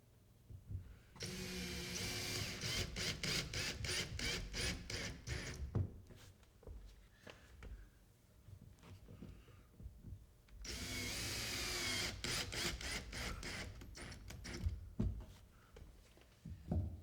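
A power drill drives drywall screws into lath strips behind a drywall hole patch, two long whirring runs with stuttering bursts between them and no talking.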